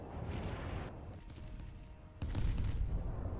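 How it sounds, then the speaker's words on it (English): Torpedoes strike a ship in the naval video game Steel Ocean, a low rumbling explosion that swells suddenly into a loud, sustained boom after a quieter stretch of background battle noise. "Will the torpedoes reach him? Yes,"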